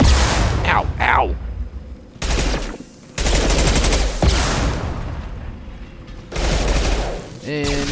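Gunfire in Mass Effect 2 Legendary Edition, with loud rapid bursts of weapon fire broken by short pauses and game characters shouting over the shooting.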